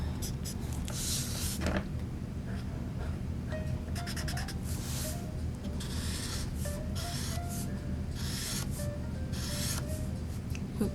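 Marker tip scratches and rubs across paper in repeated short strokes, close and soft, with brief pauses and light handling noise.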